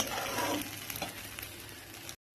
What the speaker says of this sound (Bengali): তো এটা আমি এখন 4 মিনিট মতন চালটা ভেজে নেব গ্যাস কমিয়ে।